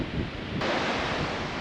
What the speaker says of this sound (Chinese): 山顶有点凄风苦雨，雨是不大，但风很大